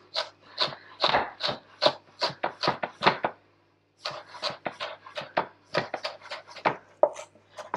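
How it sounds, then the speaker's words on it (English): A kitchen knife finely chopping fresh ginger on a board in quick, rhythmic strokes, close and crisp, with a short pause partway through before the chopping resumes. "we're just going to chop that, and we need this chopped pretty fine"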